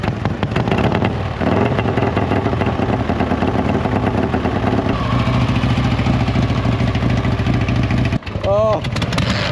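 Harley-Davidson Panhead motorcycle engines rumbling loudly and continuously at close range, a thick low throb that breaks off abruptly near the end before a voice speaks briefly.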